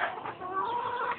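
A chicken gives a short series of soft, nasal clucks close by in a quiet household setting, with no talk over it.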